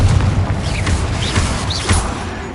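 A Confringo blasting spell exploding in Hogwarts Legacy, a loud rumbling boom with dense crackling debris and rolling low-end thunder, fading slightly over a couple of seconds amid whooshing magic effects.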